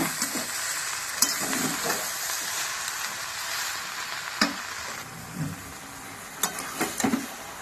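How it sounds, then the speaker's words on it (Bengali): Spice paste with chilli powder, chopped tomato and green chillies fries in a pan for a vegetable chop filling, a steady close sizzle broken by occasional stirring scrapes and clinks. "মশলাটা আমি ভালো করে কষিয়ে নিয়েছি।"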